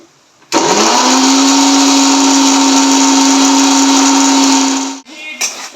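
Mixer grinder grinding spice paste for a Bengali doi katla curry, a loud, close motor whine that starts abruptly, holds steady for about four and a half seconds, then cuts off with a brief rattle afterward.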